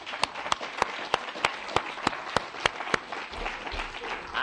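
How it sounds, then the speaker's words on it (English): A conference audience applauds, with a few loud individual claps standing out over steady crowd clapping throughout. "a big round of applause for you all."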